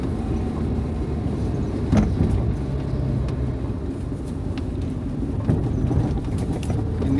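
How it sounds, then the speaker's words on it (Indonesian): Steady in-car road rumble while driving in traffic behind an NPM bus on the rough, damaged Jalan Lintas Timur between Palembang and Betung, with a couple of brief louder thumps over the continuous low drone. "Kita iring-iringan dengan bus NPM."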